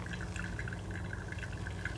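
Soft, steady pour of water over coffee grounds, a gentle continuous trickle with light dripping, close and quiet.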